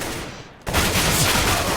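Gunfire from the video game Counter-Strike in an ESEA league playoff match, bursting in loudly after a brief quiet moment and continuing as a sustained, dense barrage of shots.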